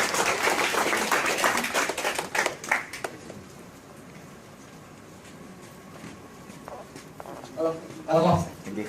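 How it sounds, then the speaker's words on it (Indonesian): A short burst of clapping from a presentation audience welcoming Pak Hendy, loud for about three seconds and then dying away, followed by quieter room sound and people talking. "Silakan Pak Hendy, kita kasih tepuk tangan teman-teman."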